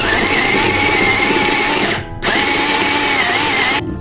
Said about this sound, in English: since meron naman akong ganitong food processor, dito ko siya i-chop, no, para hindi mahirap